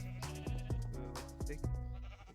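Minecraft sheep bleating several times in quick succession, each a wavering, nasal baa with a falling pitch, close and fairly clear against a faint game background, with no talking.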